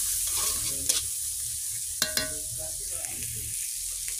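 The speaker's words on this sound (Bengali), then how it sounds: "এটা কষাবো।" Fish pieces with salt and turmeric are sautéed in a pan, with a spatula scraping and stirring through an ongoing hiss of frying oil and a couple of sharp clacks against the pan.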